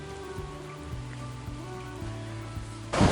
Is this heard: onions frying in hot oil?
no